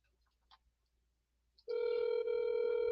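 A telephone dial tone sounds when a second call is placed after a voicemail. A few faint clicks come first, then a steady, loud, unbroken tone holds to the end.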